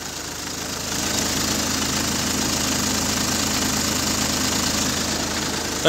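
A Volvo car engine idles steadily at close range after a cold start in snow, a constant low rumble with a faint rhythmic knock.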